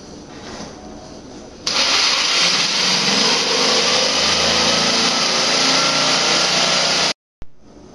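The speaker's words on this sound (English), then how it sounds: "I elected to use our jigsaw very carefully, just taking our time and cutting out the blue sections." A jigsaw set to its PVC setting and fitted with a PVC blade cuts a plastic golf cart panel, one loud, steady, high-pitched buzz running for several seconds before stopping abruptly.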